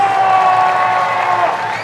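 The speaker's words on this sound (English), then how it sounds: "Round of applause for the 8th graders." Audience clapping for the 8th graders at an all-city school band concert in a high school gymnasium, a steady crowd wash with a sustained tone ringing above it throughout.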